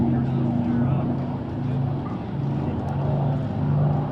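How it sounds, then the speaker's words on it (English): A B-25 Mitchell (PBJ) and an A6M3 Zero run up their piston engines at an airshow, a continuous loud droning rumble with a steady tone, while a voice talks over it. "as the power comes up on the PBJ and the Zero"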